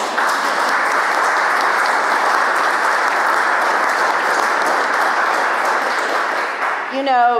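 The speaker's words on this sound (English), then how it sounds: "you can clap, it's okay." Audience applause for a man being acknowledged at a talk, steady and dense for about seven seconds, broad and loud throughout, with a voice beginning to speak as the clapping fades at the very end.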